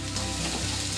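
Masala-marinated chicken sizzling loudly as it hits golden frying onions in a pan, a dense continuous crackle that lasts about a second.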